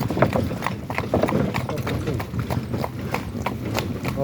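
Steady clip-clop of shod hooves on a hard surface, a pregnant mare walking nearby in an even rhythm while people talk.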